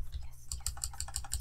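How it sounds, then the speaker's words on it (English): Fast typing on a computer keyboard, a quick run of sharp, close key clicks at a steady pace under a low background hum. "Wow, I can't type today."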